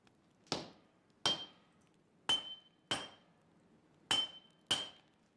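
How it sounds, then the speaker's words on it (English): Hammer blows on hot steel while forging a katana, six sharp ringing metallic strikes in pairs with a clear pause between each group, loud and close, with no talk. "Heat from the forge and constant hammering flatten the pieces into the building blocks of the new weapon under Gassan's watchful and highly trained e"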